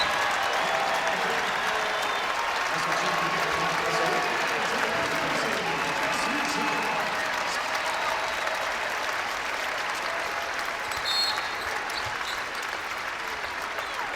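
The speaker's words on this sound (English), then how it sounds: "another big round of applause to come for the" Sustained crowd applause and cheering fills an arena at a women's college basketball game, Iowa State hosting Kansas State, steady and loud throughout with no clear talk over it.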